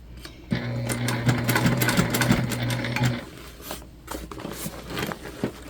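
A sewing machine stitches a side seam on a large bag, running steadily for about three seconds before stopping, then a few softer handling taps and rustles follow.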